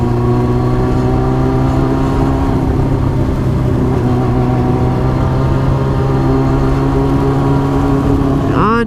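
Motorcycle engine humming steadily while riding, a continuous near drone with stable tones and wind rush, a voice speaking briefly over it.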